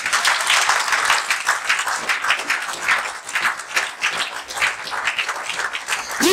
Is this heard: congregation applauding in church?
yes